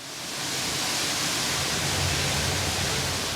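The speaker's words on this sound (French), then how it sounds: "Les jets sont super puissants, comme vous pouvez le voir." Powerful jets from a high-tech shower spray water in a dense, even hiss that swells in over the first half second and then holds steady and fairly close.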